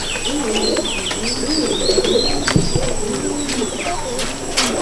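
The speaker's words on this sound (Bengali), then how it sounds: "এই এমনি রামপুরি চন্দ্রকান্ত পায়রা" Rampuri Chandrakanta pigeons at a loft cooing in soft repeated rolling calls, close and continuous, with sharp wing claps and brief chirps mixed in.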